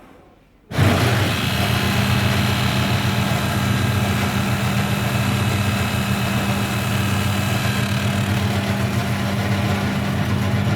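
A Highland Park lapidary shaping machine starts up abruptly after a moment of quiet, then runs with a loud, steady motor drone and hum that holds unchanged.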